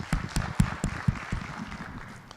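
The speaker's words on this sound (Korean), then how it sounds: "주님께 영광의 박수 돌립니다" Sparse, irregular hand claps ring out in a church service after a closing prayer, a handful of distinct close claps that thin out and fade within a couple of seconds.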